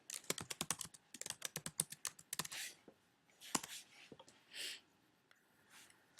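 Keys on a computer keyboard are typed in quick bursts of soft clicks with brief pauses, ending in a few slower, separate taps, quiet and close.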